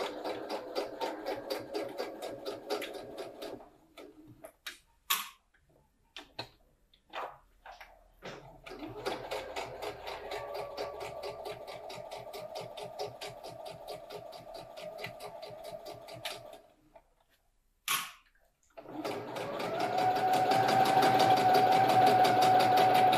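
A home sewing machine stitches a beginner drawstring bag, running in several fast mechanical bursts separated by pauses where the fabric is adjusted, ending in a steady loud whirring run.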